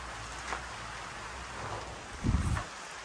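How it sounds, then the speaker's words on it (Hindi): Steady, soft rain hissing in the background, with a brief low rumble near the end. "बिन मौसम बारिश क्या होने लग गई"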